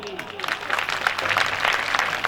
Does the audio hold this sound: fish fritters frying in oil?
no